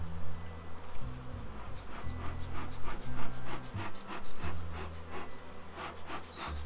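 Dense, continuous buzzing of many honeybees at a crowded hive, the third in a spring apiary, humming loudly and close with a wavering, layered drone.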